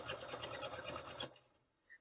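A sewing machine stitches a 1/8-inch seam down one side of a fabric flange for a quilted pillow, running in a steady rapid whir for over a second before stopping abruptly, followed by near silence and a faint click.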